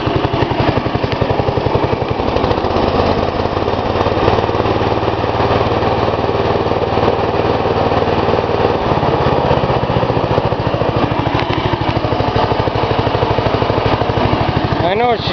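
Farm King tractor with a 16hp cast iron Briggs & Stratton engine and updraft carburetor running close up, a loud, steady rapid chugging putter with a brief shift in tone partway through.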